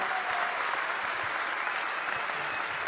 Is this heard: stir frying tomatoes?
no